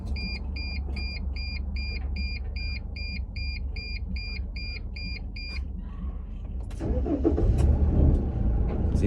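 A van engine cranking and catching after a repeated electronic dashboard chime, with a small clunk as it starts; the motor then settles into a louder, rumbling idle close by.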